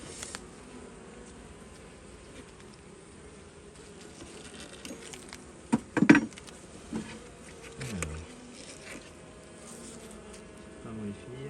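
Honeybees swarm and hum around an opened beehive during a first apiary inspection: a steady, close buzzing drone, with a few knocks and handling sounds midway and faint background noise.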